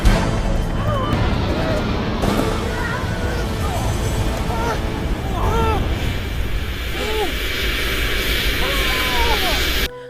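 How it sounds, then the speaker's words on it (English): A CGI plane in an Icelandic movie roars past close by with a steady loud engine drone that fills the scene, while voices shout and talk over it. "after being nearly run over by a plane"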